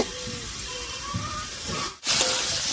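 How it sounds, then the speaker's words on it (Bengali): A lid comes off a pan of tomatoes cooking for a spicy tomato dish, releasing a steady close hiss of steam. The hiss breaks briefly, then surges back louder. "এবারে ঢাকাটা তুলে নিচ্ছি।"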